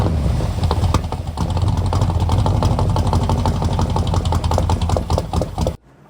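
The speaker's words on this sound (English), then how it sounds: "finally, after everything, I got it to run like crap for a few seconds." A Chevrolet Nova SS engine runs roughly for several seconds, loud and close with an uneven, lumpy idle and ragged firing, then cuts out abruptly near the end, leaving near silence.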